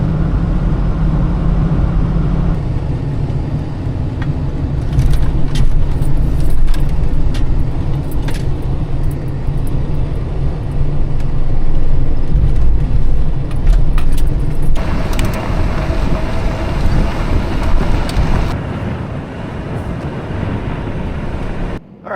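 An old Ford truck drives along, its engine a steady low drone with road and cabin rattles, shifting in tone partway through and continuing close and loud throughout.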